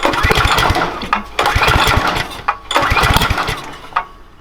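A small pocket-size mini bike engine with a faulty carburetor that spits flame, sputtering and revving in uneven loud bursts that surge, drop and pop, heard close up without speech.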